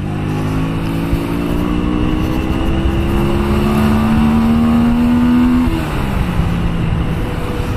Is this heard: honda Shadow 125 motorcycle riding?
yes